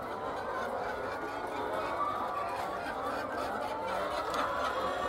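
A dense, continuous chorus of laying hens fills a poultry farm, many birds clucking and squawking over each other at a steady, busy level with no talk.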